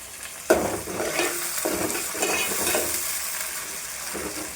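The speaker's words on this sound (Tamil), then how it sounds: "இந்த வெங்காயம் நல்லா வதங்கட்டுங்க." Small onions and curry leaves sauté in a hot pan, a steady close sizzle broken by a few scraping stirs of the spatula.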